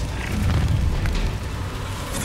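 Bombarda spell in a Hogwarts Legacy final boss fight erupting into a dense, rumbling boom with crackling fire-like noise, loud and sustained with no one talking.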